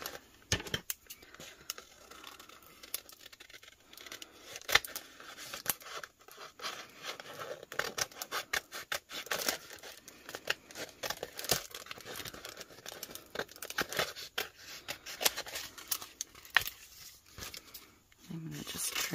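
Scissors trim excess vinyl temporary-tattoo sheet in many quick snips mixed with crinkling and rustling of the sheet, close, while a person talks at times.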